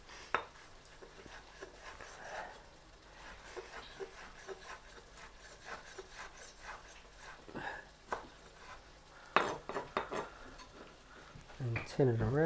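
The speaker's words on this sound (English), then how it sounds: "I'm just going to try and just basically chop this up nice and fine" A knife chops finely through low-carb Big Mac salad ingredients on a wooden board, with irregular soft rubbing cuts and a few sharper knocks, under quiet talk.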